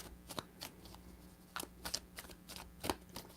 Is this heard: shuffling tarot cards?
yes